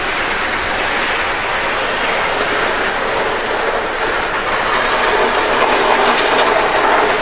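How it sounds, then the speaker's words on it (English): A model train runs around the outside loop of a layout, giving a steady, continuous rolling rumble and hiss that stays level throughout with no talking. "We are now running trains on the outside loop of phase 2."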